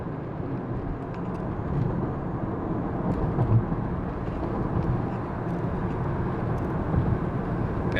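Continuous broadband road and engine rumble from a moving 1993 Lexus GS300, steady and fairly loud with no talking.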